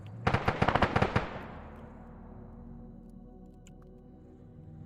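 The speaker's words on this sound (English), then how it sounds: "Now you're having this HMG open fire." A heavy machine gun in an Arma 3 battle fires a rapid burst of about ten loud, close shots, then its echo trails off into a low rumble of distant combat.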